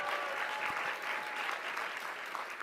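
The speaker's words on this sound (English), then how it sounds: "let's have a round of applause" Steady, dense applause from an audience at an advertising event, continuous and fairly loud throughout with no talking over it.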